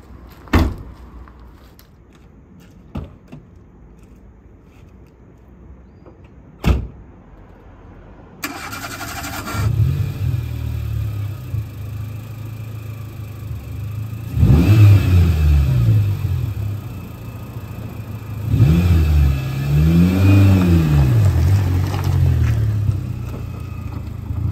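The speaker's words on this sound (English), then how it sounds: "Let's get the car started and fired up." Hydrogen gas powered car engine: a few faint clicks and knocks, then the engine catches and settles into a steady idle, followed by two rising-and-falling revs, close and fairly loud.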